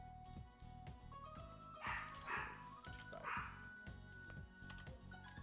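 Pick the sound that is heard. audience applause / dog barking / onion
dog barking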